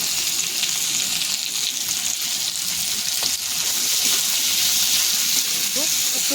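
Garlic, ginger and onion frying in oil for chili chicken give a dense, continuous loud sizzle that barely changes, with a faint voice murmuring now and then beneath it.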